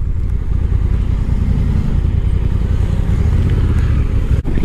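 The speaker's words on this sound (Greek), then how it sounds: "η μοτοσυκλέτα περνάει και δεν σε προειδεάζει για το πόσο ευκίνητη μπορεί να είναι μια τουριστική μοτοσυκλέτα σαν κι αυτή." A 2022 Honda NT1100 DCT touring motorcycle on the move gives a steady, loud engine drone with road rumble throughout, briefly dipping near the end.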